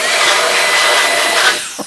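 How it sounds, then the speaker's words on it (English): Hingso 300000RPM electric air duster blasting dust out of an old computer outdoors, a loud continuous high-pitched whooshing jet that holds steady and then tapers off at the end. "this is going to be a good time to blow out my old computer"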